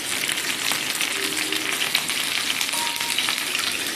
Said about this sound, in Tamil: அப்படியே மீடியமான ஃப்ளேமில் ஃப்ரை ஆகட்டும் ஒரு 2 மினிட்ஸ்